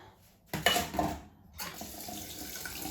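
Tap water runs into a kitchen sink to rinse out a cleaning cloth, with a splashing burst followed by a steady close stream and some soft clatter, without any talking.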